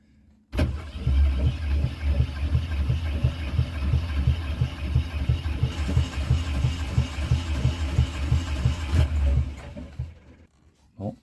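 A Volvo Penta MD5a single-cylinder marine diesel with a freshly replaced head gasket cranks hard, a fast rhythmic chugging that runs steadily for several seconds before stopping abruptly.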